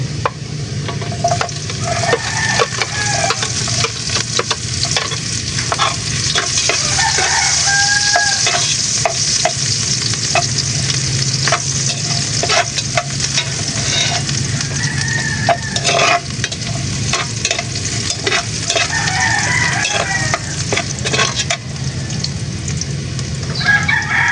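Garlic frying in a hot pan, a loud continuous sizzle with scraping stir strokes throughout, and a rooster crowing a few times in the background.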